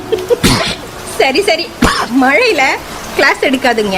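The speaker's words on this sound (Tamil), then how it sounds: "தும்மல் தான் வரும்." A person sneezes once, loudly and up close, after getting soaked in the rain, with talking continuing around it.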